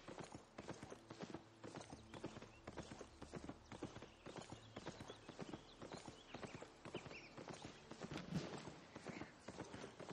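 Horse hooves clip-clop steadily in the Albion Online video game, a quick, even rhythm of hoofbeats over a busy game soundscape, moderately near and continuous.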